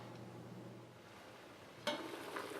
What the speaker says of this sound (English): I'm just going to give it 1 quick stir